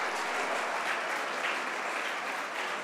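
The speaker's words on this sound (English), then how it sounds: "May I ask you for a round of applause to the staff" A civic State of the City lunch audience in St. Catharines applauding the catering staff, steady dense clapping from many hands filling the room without a break.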